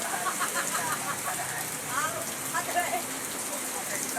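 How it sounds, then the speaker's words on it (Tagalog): Heavy typhoon rain pours down in a dense, steady hiss of drops hitting surfaces, fairly close, with a voice faintly speaking beneath it. "Ayan, lalong lumakas ang ulan."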